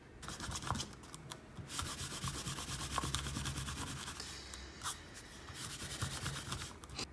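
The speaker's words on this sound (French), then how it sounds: "Et on peut maintenant gommer notre reconstruction." Quiet, continuous scrubbing of an eraser rubbing out pencil lines on drawing paper, close and soft, with short pauses between strokes.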